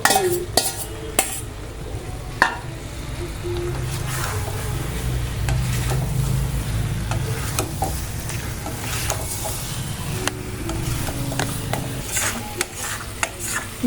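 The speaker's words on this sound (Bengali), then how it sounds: "এবার মশলাটা ভালো করে কষাতে হবে।" Spice paste with ground cumin sautés in a pan, a sustained sizzle broken by frequent scraping and clinking strokes of a spoon against the metal, close and fairly loud throughout, with no talking.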